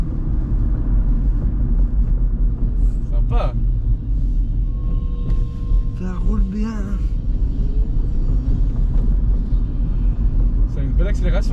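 A 2023 Renault Twingo drives and accelerates, a constant low engine and road rumble heard from inside the cabin, with people talking over it throughout.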